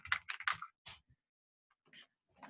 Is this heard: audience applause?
no